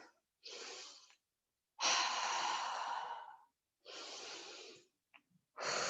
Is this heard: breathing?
yes